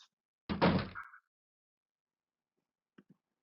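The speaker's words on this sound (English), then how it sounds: "So they closed all the doors." Heavy doors swing shut with a loud slam followed by a short scrape, then two faint knocks a couple of seconds later, with no voices.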